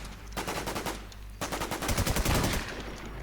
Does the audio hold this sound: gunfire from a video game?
yes